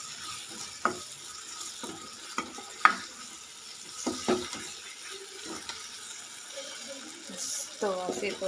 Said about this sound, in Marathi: हे बघा तेल सुटते छान मस्त फ्राय व्हायला लागले